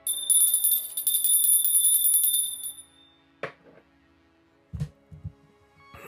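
Bell rung once with a bright, shimmering ring that sustains for about two and a half seconds before fading, followed by a few faint knocks and thumps close by.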